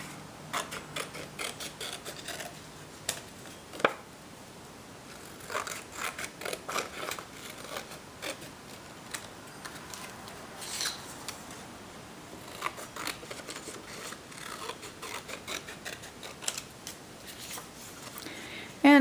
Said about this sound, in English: now I'm going to begin cutting out my triangles, my parallelogram, and my square.